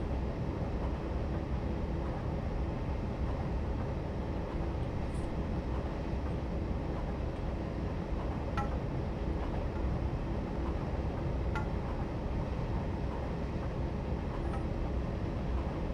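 An EMD GP9 diesel locomotive runs on the Springfield Line in Train Simulator 2016, giving a steady, loud rumble and wheel roar with a few faint clicks, unbroken and with no talking.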